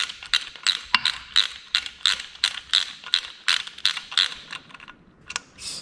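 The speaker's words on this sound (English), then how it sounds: "Get it started by hand, and then come along with the ratchet." A hand ratchet tightens a bolt on an engine accessory, giving a steady series of crisp, close clicks in even rhythm that slows and trails off near the end.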